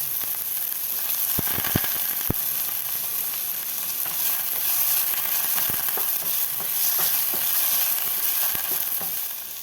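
Finely chopped onions, two large ones, frying in three tablespoons of mustard oil for fish cutlets, a steady loud sizzle broken by several sharp scraping clicks of a spoon early on.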